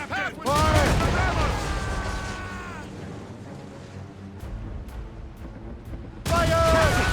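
Heavy naval cannons booming from a sailing warship during a sea battle, a couple of loud blasts with rumbling tails, and shouted crew voices over them.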